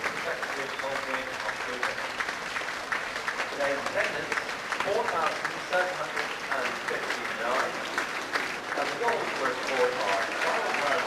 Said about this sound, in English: Argyle then go off to great applause.